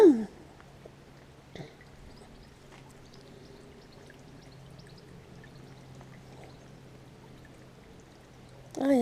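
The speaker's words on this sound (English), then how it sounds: "I love the light on the water, the movement and little trickly, splashy sounds." Water trickles and splashes softly and continuously in a small tub pond outdoors, with brief chirps at the start and end and no talk.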